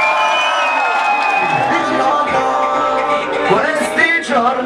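Concert crowd at an outdoor live rap show at La Rocca in Arona cheering, whooping and applauding loudly and continuously, with shouts rising near the end.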